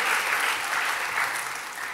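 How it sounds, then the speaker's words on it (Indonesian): Congregation applause at a church service, a dense steady clapping that fills the room evenly for the whole stretch before tapering slightly at the end, with no voices over it. "kalau mau tepuk tangannya boleh lebih dahsyat lagi buat Yesus Tuhan kita."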